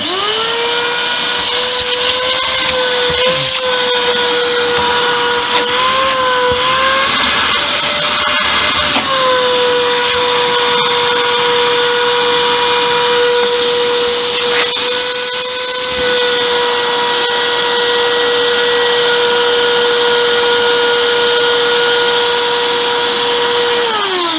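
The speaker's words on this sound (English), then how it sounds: "If I'm being cynical, the motor does sound a little bit iffy" A Vax Multivax 6131 vacuum cleaner motor runs loud and close, a continuous high whine with wavering pitch and a few brief knocks, suggesting a somewhat rough, iffy motor.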